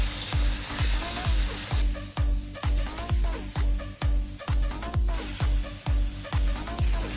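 Lamb fried rice ingredients seasoned with garlic powder, clove and gulai spice, stirred in a hot wok: a loud, steady sizzle broken by a regular rhythm of scraping and tossing strokes, close up with no talk.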